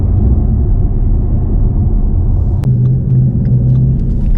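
Deep, steady engine rumble from a Shelby Mustang GT350 on the move, loud and close, with a brief click and a shift in tone partway through.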